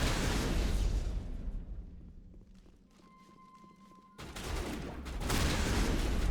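Turret gunfire in the Mass Effect video game during a battle on Feros: dense bursts of loud automatic fire, a quieter stretch with electronic tones, then heavy rapid shooting resumes close up.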